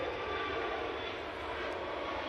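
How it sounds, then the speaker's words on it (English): A Ryanair Boeing 737 MAX passes at Manchester Airport with a faint, steady whine and hiss from its engines. The sound is brief and even, with no voices. "RyanAir 737 MAX."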